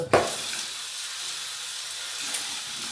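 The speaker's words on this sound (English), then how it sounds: "So I'm going to rinse it off" Tap water running into a sink while rinsing elbows with warm to hot water, a steady close hiss of flowing water with a brief splash at the start and another small splash near the end.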